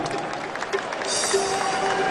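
An audience breaks into steady applause at a Punjabi stage event, a soft even patter of many hands that rises and thickens partway through and continues to the end.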